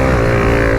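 A Honda CRF 300 L trail motorcycle engine holds a loud, steady, close-up drone at high revs, with no pauses.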